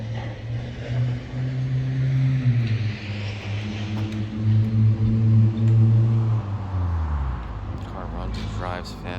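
A 1955 Chevrolet Bel Air with a fresh 355 engine and TH400 transmission drives along. Its engine drones and shifts pitch through acceleration, loud and close, with someone talking over it.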